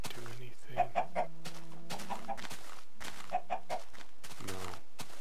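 Blocky Minecraft chickens cluck in short, close repeated bursts, with a few fainter pauses between clusters of soft clucks.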